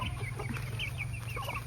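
Chickens on a home farm cluck softly and steadily at close range, low repeated calls with no talking over them.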